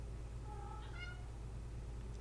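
A cat meows once, a faint mid-pitched cry over a constant low electrical hum.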